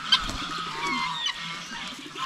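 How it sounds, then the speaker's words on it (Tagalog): A goose on a farm, feeding alone among other poultry, gives drawn-out nasal honking calls at moderate distance, fairly steady with a brief break near the middle. "Hindi takot yung gansa,"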